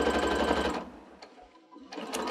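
A sewing machine stitches quilt blocks in a continuous chain, a fast close mechanical whir that stops abruptly, then a quiet pause with faint handling before the whirring starts again.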